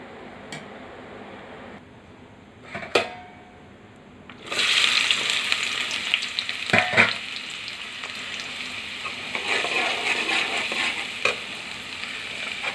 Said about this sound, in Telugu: ఉల్లిపాయలు గోల్డెన్ కలర్ రావాలండి.